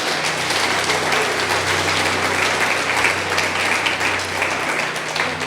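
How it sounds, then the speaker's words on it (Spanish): A church congregation claps loudly and steadily during a sermon, a thick sustained roar of many hands with a little scattered cheering, continuing without pause. "Dale un fuerte aplauso a Dios por eso."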